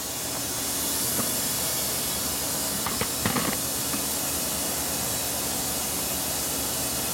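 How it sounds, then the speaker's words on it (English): A steam cleaner hisses steadily inside a 1938 Harley-Davidson Knucklehead motorcycle fuel tank, loud and continuous, with a few faint knocks and rattles partway through. "I'm going to steam clean the inside of the tank"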